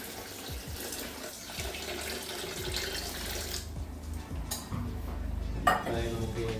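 A cup of water, about 300 ml, is poured onto sugar in a pan for date ladoos. A steady rushing pour with light clinks fills the first half, then fades into quieter stirring and handling sounds.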